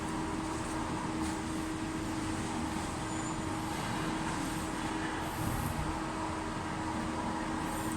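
Angle cutting metal band sawing machine running with a steady, moderately quiet mechanical hum and whine, no speech.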